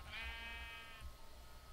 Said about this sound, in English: And we've also found some sheep out here. Particularly a ram.